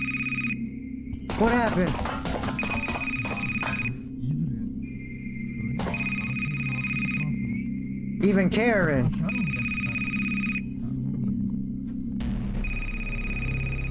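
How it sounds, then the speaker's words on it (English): A cell phone rings in a SpongeBob video game, repeated electronic ring bursts separated by short gaps, with voices talking over and between the rings. "The cell phone's ringing."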